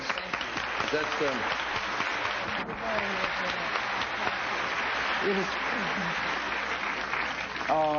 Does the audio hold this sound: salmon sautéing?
no